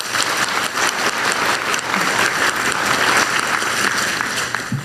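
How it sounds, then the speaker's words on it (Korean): Applause from a crowd at a Korean government industrial development report event, a loud sustained burst of many hands clapping densely throughout, fading slightly at the end. "세 분께 다시 한번 격려와 희망 박수를"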